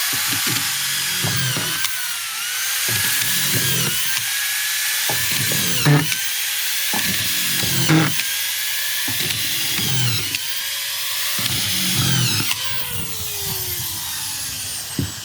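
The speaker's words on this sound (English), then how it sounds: "we're going to go ahead and get the screw gun started. You can hear it engage, and then we're just going to start sinking screws" A cordless screw gun driving a run of screws, loud and close, with repeated whirring bursts as each screw sinks, separated by brief pauses and ending in a rising whine.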